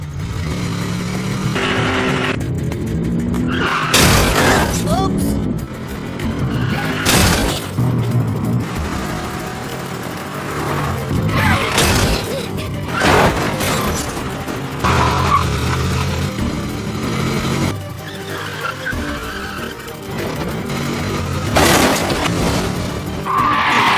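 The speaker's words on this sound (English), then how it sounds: "I think he crashed into his truck on purpose" A car skids at speed and smashes into a truck, with screeching tires, roaring engines, heavy impacts and shattering glass in a loud, continuous action sequence with several bursts.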